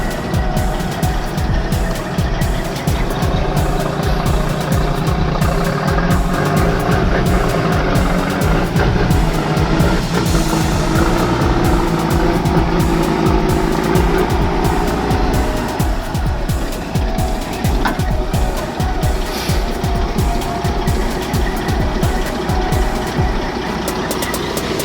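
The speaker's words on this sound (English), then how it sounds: "Now take a look at this massive log truck attempting a sharp bend." A massive log truck hauling a long trailer works its way around a sharp bend, its heavy diesel engine loud and close with a continuous throaty rumble that rises and falls as it maneuvers, with no talking.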